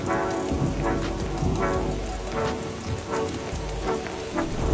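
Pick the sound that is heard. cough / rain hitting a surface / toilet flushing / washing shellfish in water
rain hitting a surface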